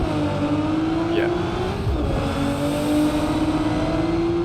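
A car engine drives steadily in BeamNG.drive during a drifting career run; the car is poorly tuned and short on power. It gives a sustained, droning hum with faint tonal shifts throughout, and a voice talks over it.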